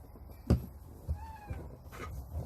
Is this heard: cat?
yes